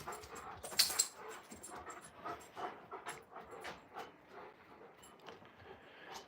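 Large Alaskan Malamute dogs on a porch panting in quick rhythmic breaths, close and fairly quiet, with a brief sharper sound near the start and a faint whimper-like tone.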